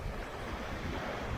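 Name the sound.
strong wind and rough sea waves on a beach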